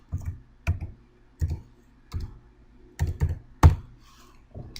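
Computer keyboard typing in a Word document, keys struck in short separated bursts with a sharper tab-key hit, close and clear, no talking.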